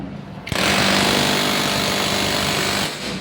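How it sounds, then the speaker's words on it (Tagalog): An impact wrench fitted with a 14 mm socket loosens a bolt on a Honda Click 125 scooter, a loud, sustained buzzing whir starting abruptly after a brief lead-in and running about two and a half seconds before easing off. "Gagamitan natin ng impact na 14 bala dito para magluwag tayo."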